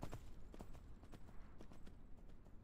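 Horse hooves from the open-world survival game Myth of Empires clop in a quick, uneven rhythm of sharp taps over a dense background of game ambience and rumble, moderately close.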